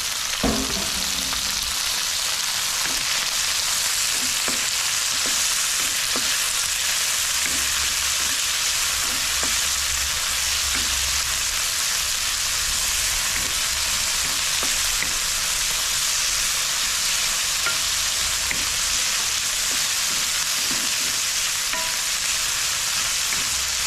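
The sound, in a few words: tomatoes being sautéed in a pan for sotanghon guisado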